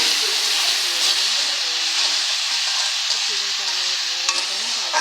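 Dried fish (shutki) cooking with spices and tomato in a pan gives a steady close sizzle and hiss, with stirring scrapes and a few short tonal squeaks over it throughout.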